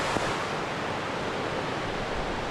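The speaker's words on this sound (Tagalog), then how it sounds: "malaking ilog yun oh" A large river flowing beside a coconut grove gives a broad, steady rushing wash, close and unbroken for a few seconds, with no voices over it.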